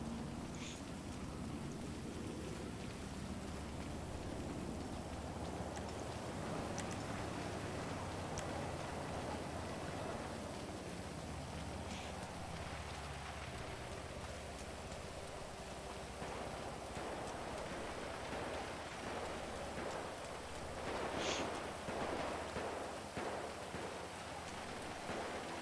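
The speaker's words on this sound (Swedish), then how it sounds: "Åh jävlar, nu börjar det regna." Steady rain in the video game FiveM (GTA V), a continuous hiss of rainfall drumming on surfaces with scattered droplet patter and a faint low rumble underneath, constant throughout with no voices.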